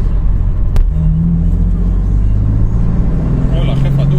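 A BMW M4 accelerates hard, its engine rising from a low rumble into a strong, steady pull that sits loud and close throughout.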